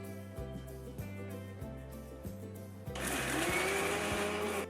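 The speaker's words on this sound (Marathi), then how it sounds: "आपण हे खोबरं आणि बाकी गोष्टी मिक्सरमध्ये फिरवून घेऊया" A mixer grinder whirs through coconut and other ingredients for a Mangalorean chicken curry, giving a steady motor hum with rhythmic pulses that turns into a louder, rougher grinding roar for the last couple of seconds.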